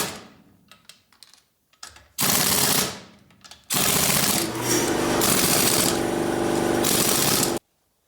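An impact or power wrench tightening car wheel lug nuts in a cross pattern on a Mercedes E320, several short loud buzzing bursts separated by brief pauses, close by with no talk.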